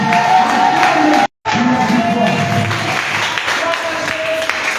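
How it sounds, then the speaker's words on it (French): Congregation at an intense prayer night cheering, clapping and shouting in acclaim of Jesus, a loud sustained crowd roar with whoops, broken by a brief dropout. "si tu es d'accord avec tout ce qu'on a dit, acclame le Seigneur Jésus"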